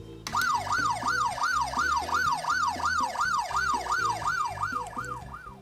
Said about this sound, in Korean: 이게 사이렌 2번입니다.